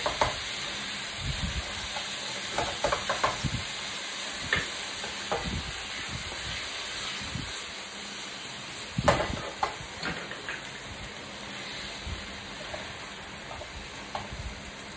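Char kuey teow fries in a hot wok with soy sauce, a steady low sizzle broken by repeated scraping and stirring clatters of the spatula, moderately close and without talk.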